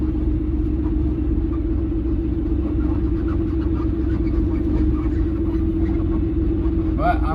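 A truck hauling a trailer, loaded with a John Deere 544 loader, idles with a deep steady rumble and engine drone throughout while parking, loud and close, with faint voices in the background.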